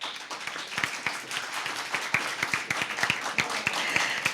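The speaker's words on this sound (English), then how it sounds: "A round of applause for her." Audience applause at a school debate competition in Antigua and Barbuda, following a secondary student's speech: scattered, fairly thin clapping from a modest crowd, steady for about four seconds at moderate distance.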